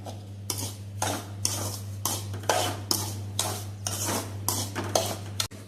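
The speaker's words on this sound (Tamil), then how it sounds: "மிச்ச நெய்யில் ரவையை போட்டு வறுத்துட வேண்டியதாம்மா." Roasted semolina stirred in ghee in a metal pan, a spoon scraping the pan in regular strokes about every half second over a low steady hum, close and fairly quiet.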